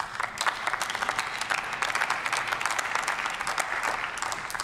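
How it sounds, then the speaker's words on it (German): Sustained applause fills a parliamentary chamber after a speech on the petitions committee's annual report, a dense, steady wash of many hands clapping at even loudness throughout, with no voices over it. "Applaus"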